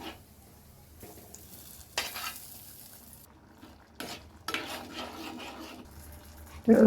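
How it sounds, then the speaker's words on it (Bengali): Fried onion, garlic and ginger are stirred into millet haleem in a pot, with soft intermittent spoon scrapes and clinks over a faint sizzle, quiet and close. "এবার আমি মিশিয়ে দেবো ভাজা পেঁয়াজ রসুন আদা আমি এটার সাথে মিশিয়ে দিচ্ছি"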